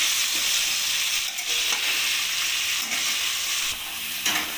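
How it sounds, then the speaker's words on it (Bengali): Chopped vegetables and green chillies sizzle and hiss in an oil-filled kadai, a continuous loud frying roar broken by occasional scraping stirs of a spatula, with no talk. "এবার সমস্ত সবজিগুলো আমি ভালো করে ভেজে নেব।"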